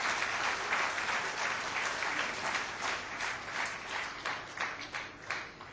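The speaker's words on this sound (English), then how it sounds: "Let's hear a big round of applause for Mr." A conference audience claps in sustained applause for an honoree at a professional accountants' golden jubilee event, a dense roomful of hands that stays loud and even, then thins slightly toward the end.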